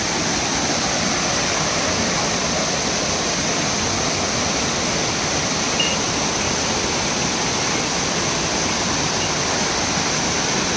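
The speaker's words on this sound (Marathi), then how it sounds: "धबधब्याचं पाणी पण एकदम जबरदस्त प्रेशरने वाहत आहे फुल स्पीडमध्ये" Savdav waterfall in Konkan pouring at high pressure and full speed, a steady, dense roar of rushing water that stays loud and unchanging throughout, with no voices.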